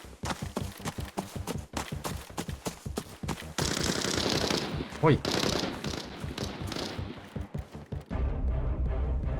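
Gunfire in the shooter game Arena Breakout Infinite: rapid bursts of sharp shots ring out, then a denser roar of fire, followed by more spaced volleys, loud and close throughout.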